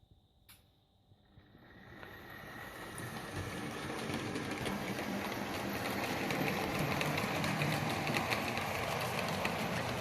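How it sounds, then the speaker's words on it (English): A model train's rumbling whir builds over a couple of seconds, then runs on steadily along the track at a constant level. "Let me just run the train for you."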